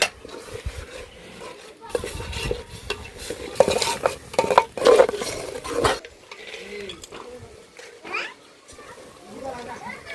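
Chicken mixed with chili powder, turmeric and salt in a pot, with a spoon scraping and clattering against the metal in uneven bursts and a faint sizzle underneath, close by, while people talk.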